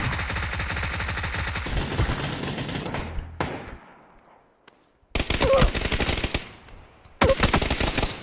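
Gunfire in PUBG on PC: rapid automatic bursts, loud and close, a long volley, then a pause of near silence before two more sharp bursts of fire.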